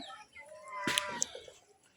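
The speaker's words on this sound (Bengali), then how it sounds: "এই যে আমার দেশি মুরগিগুলো এখানে আছে দেখতে পাচ্ছেন" Native chickens on an integrated farm cluck and call briefly nearby, a short fowl vocalization over quiet farmyard background.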